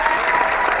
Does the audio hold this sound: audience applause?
yes